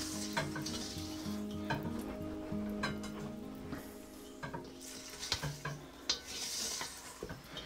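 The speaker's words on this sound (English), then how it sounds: "Then just scrape it down, mix this up, and you have your liquid." A spatula repeatedly scrapes and mixes melted-chocolate brownie batter in a bowl, making a continuous wet stirring and rubbing sound with soft clinks of utensil on the bowl.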